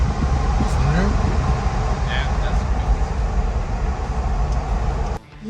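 Tyres roaring loudly and steadily on a road from inside a moving car travelling through the mountains of Pakistan toward Mansehra, a dense continuous rumble that cuts off sharply near the end.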